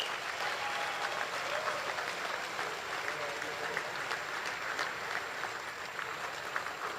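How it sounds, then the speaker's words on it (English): Sustained applause from a convocation audience on a university cricket ground, honouring position holders and medal winners, dense steady clapping at even loudness with a faint background tone and a little talk underneath. "please join us to give a round of applause to all position holders and"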